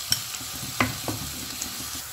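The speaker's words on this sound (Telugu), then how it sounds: "కట్ చేసుకున్న మిర్చి ఆనియన్స్ ఫ్రై అయిపోయినాయి కదా" Chopped onions and green chillies fry in hot oil in a kadai for chicken masala, giving a soft steady sizzle with a few sharp utensil clinks and stirring scrapes, close and fairly quiet.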